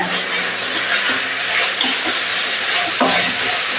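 Spinach greens being sautéed and stirred in a pan, a loud continuous sizzle and hiss with scraping stir strokes and occasional clanks of the spatula, no talk.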